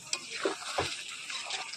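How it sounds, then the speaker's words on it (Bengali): Mutton fat fritters fry in hot oil, giving a steady, soft hiss and crackle throughout, with a few brief spoon or pan knocks close by. "আজকে খাসির তেলের বড়া করেছি আমি। ঠিক আছে, আরও কয়েকটি ভাজা হচ্ছে"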